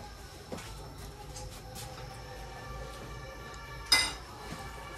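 Two plates set down on a table, a few soft clinks of dishes followed by one sharp ceramic clatter, heard nearby over quiet room tone.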